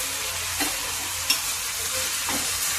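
Broad beans with ginger garlic paste stir-fry in a pan with a steady, moderate sizzle, and a few soft scrapes and taps of stirring cut through.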